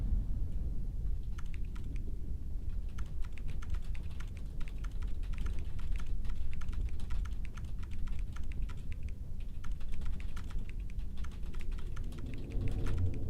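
Steady, rapid computer keyboard typing in a typing video game, dense clicking keystrokes running continuously and close without pause.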